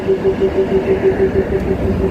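A passenger train at a station, about to leave, rumbles steadily with a regular tonal pulse, heard continuously and fairly loud without talk.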